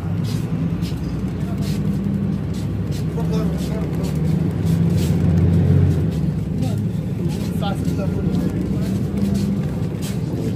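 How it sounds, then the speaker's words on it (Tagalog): Passengers ride inside a moving bus on a road trip to Souk Juma in Kuwait, with a continuous low engine and road rumble throughout and people talking over it. "Nasa loob po kami ng bus"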